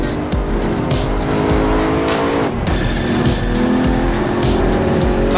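A car driven hard through a corner on a test track in third gear, understeering, with a loud, sustained engine roar and tyre squeal running throughout.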